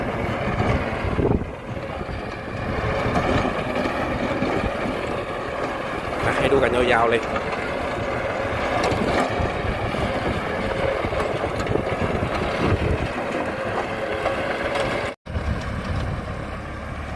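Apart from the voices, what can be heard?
LOVOL 90 hp tractor running rotary tiller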